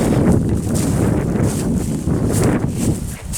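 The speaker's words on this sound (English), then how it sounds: "Whoa, it got windy." Strong wind buffeting the microphone, a continuous roaring rush with gusty swells and no voices.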